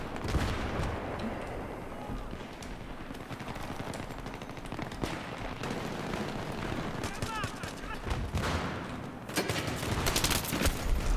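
Rapid gunfire from Battlefield 3 rattles continuously with dense automatic bursts and explosive thumps, loud and busy throughout, growing heavier toward the end.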